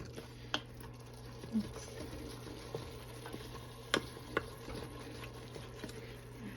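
Chuckwagon chili in an Instant Pot on sauté, stirred with a wooden spoon: soft, sparse knocks and scrapes against the pot over a faint low hum and quiet bubbling, fairly close but low in level.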